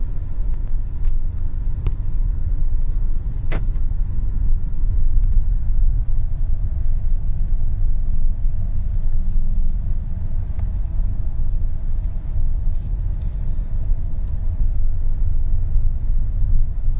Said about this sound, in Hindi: हल्का सा पैर दबाना है और ये गाड़ी स्पीड बढ़नी शुरू हो जाएगी